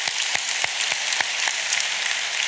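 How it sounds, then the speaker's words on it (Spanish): A church congregation applauds for a few seconds, with a dense, even wash of clapping carrying a faint, steady beat of rhythmic claps, moderately loud and without voices. "Dese un aplauso a usted por estar aquí."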